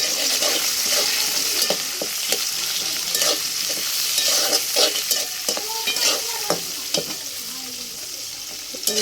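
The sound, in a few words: chilli, cardamom and bay leaf frying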